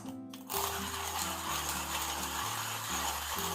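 A stainless steel burr hand grinder crunches coffee beans in a steady, continuous grinding texture with a slight rhythmic unevenness from the hand cranking, close up and without talk.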